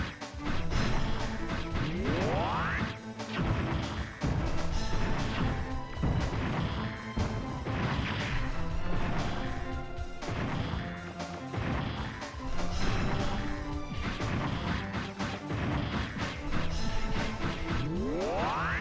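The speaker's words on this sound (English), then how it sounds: "Don't want to get hit by grenades." Repeated crashing blasts of grenade explosions in the action game Mega Man Legends, loud and constant over a dense game music and effects bed, with rising whooshes near the start and end.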